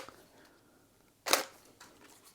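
A single camera shutter fires once to take a photo at 1/200 of a second without flash, a crisp, close mechanical click set against near silence.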